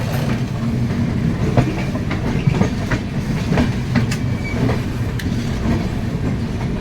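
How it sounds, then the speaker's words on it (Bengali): The Howrah–Digha Tamralipta Express running on rails after leaving Howrah station: a steady, loud rolling rumble with repeated clickety-clack wheel beats and an occasional faint squeal, no voices. "হাওড়া স্টেশন থেকে ছাড়লো train number one two eight five seven Howrah Digha Tamralipta express"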